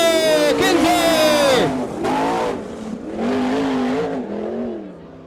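A winged sprint car, the 14 car on a Maxim chassis, runs a qualifying lap at a dirt track, its engine whining high and then dipping and rising through the turns while an announcer talks over it.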